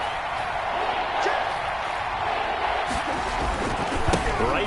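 A stadium crowd in a PS4 American football game roars steadily as it rises to make noise late in a close game on third and short, a sustained loud wash with a few sharp thumps, and no commentary over it.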